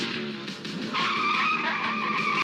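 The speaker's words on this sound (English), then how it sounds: "Another car chase. In the caddy." Tires skid and squeal through a car chase in The Terminator (1984), loud and sustained, with a sharper high screech taking over partway through, engine noise mixed in.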